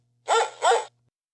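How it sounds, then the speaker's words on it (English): A dog gives two quick, sharp barks in close succession, clear and close against silence. "Dog."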